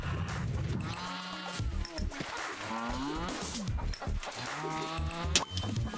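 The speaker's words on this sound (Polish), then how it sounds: "Wezmę owce." Sheep bleating in the video game Moving Out 2, with several wavering, nasal calls repeating over a steady background of game music and ambience.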